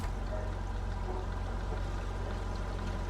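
Water gushes steadily into a tanker trailer in the truck-driving game Snowrunner, a continuous dense pouring rush at moderate level with a low engine hum beneath and no voices.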